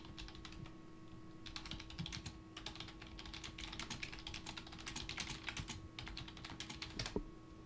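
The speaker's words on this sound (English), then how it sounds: "I hear the typing." Computer keyboard typing clatters in quick irregular bursts of clicks, close and fairly clear over a faint steady hum, with short pauses between runs of keystrokes and no talking.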